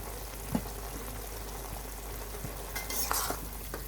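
Stirring shing fish with helencha greens in a pan, with soft scraping strokes and a gentle sizzle, a few distinct clinks of a utensil against the pan, and no talking.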